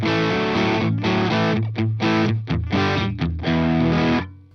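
An electric guitar played through a Laney IRF Dualtop 60W dual-channel amp pushed into overdrive rings out in loud, distorted chords, sustained strums broken by short choppy stabs before fading.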